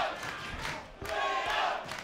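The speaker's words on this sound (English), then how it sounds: "As the crowd gets behind Liam Paro." Boxing crowd at a live fight roaring and cheering for Liam Paro against Hwang Kil Kim, a sustained, swelling wall of shouts with a brief dip before rising again.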